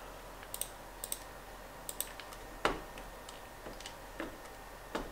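Mouse clicks while hi-hat notes are entered in FL Studio: about a dozen light, dry clicks at an irregular pace, close and quiet over a low room hum.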